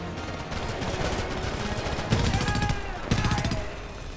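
Rapid M4 rifle gunfire in the video game Homefront, dense bursts of automatic shots rattling on throughout with a couple of heavier louder bursts near the end, amid game effects.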